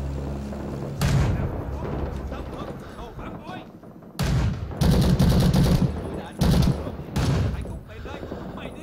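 A tripod-mounted machine gun firing in the shooter Rising Storm 2: Vietnam: several loud sustained bursts of rapid fire separated by pauses, with background battle noise between them.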